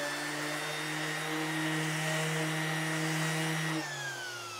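Power sander working camphor laurel wood with 60 grit paper, a steady loud whining motor hum with a continuous abrasive hiss that drops in pitch and winds down near the end, no talk.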